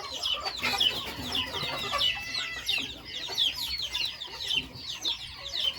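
Chickens cluck and chatter continuously in a family farm's animal pen, several birds at once, moderately close, with steady overlapping calls and no talking.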